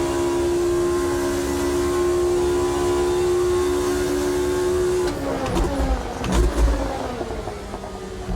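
A race car engine in the Automobilista 2 racing game, lapping the 1971 Nurburgring, holds a loud, steady high drone, then shifts into fifth gear about midway and turns rougher and more uneven, with no talking.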